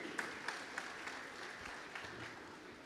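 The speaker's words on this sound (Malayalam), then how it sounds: "അതിനും ഇരിക്കട്ടെ ഒരു കയ്യടി." An audience at an Onam celebration's Maathruvandanam ceremony applauds, a steady wash of many hands clapping at moderate distance, with a few louder individual claps standing out through the short burst.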